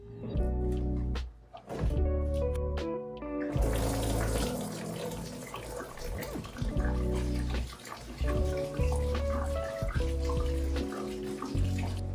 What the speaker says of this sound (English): I need to dump out all the vinegar. I need to neutralize it with baking soda and water